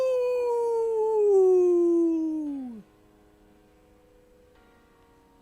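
A human voice imitates a wolf howl, singing one long, sliding 'ooh' that drifts steadily downward in pitch for almost three seconds, then cuts off into near silence with a faint tone lingering.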